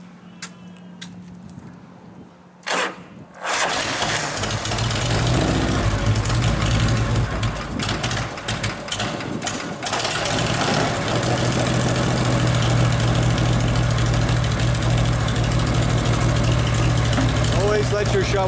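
A 1984 Harley-Davidson FLHX shovelhead, a cold-blooded bike with a stock carburetor, cranks briefly and fires up, then settles into a loud, steady low idle that carries on alone, close to the bike.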